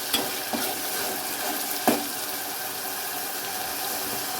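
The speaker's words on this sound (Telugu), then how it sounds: "చూడండి ఫ్రెండ్స్, ఆనియన్ పేస్ట్ చక్కగా వేగుతోంది." Onion paste fries in oil in a pan for a nethallu fish curry, a continuous close sizzle with a couple of sharp utensil knocks early on and no voices.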